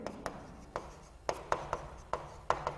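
A pen scratches out an accounting entry, likely on a board or paper during a commerce lesson: a series of short, crisp strokes and taps in an irregular rhythm, close and clear with no talk over them.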